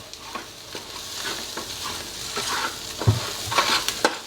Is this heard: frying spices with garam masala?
yes